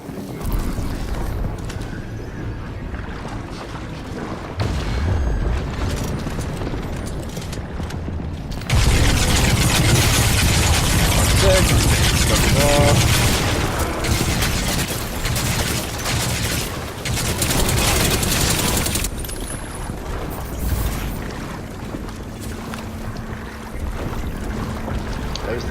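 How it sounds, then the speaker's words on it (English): A pinch rifle fired in a video game: a long, loud, dense burst of roaring discharge that holds for about ten seconds, framed by quieter mechanical rumble and wind-like ambience before and after. "That was the pinch rifle."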